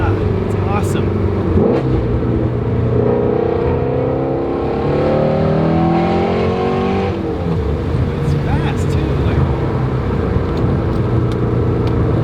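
A Ford Mustang GT350R engine roars and revs loudly up close, its exhaust crackling and popping between rising and falling pitch sweeps, with people talking over it.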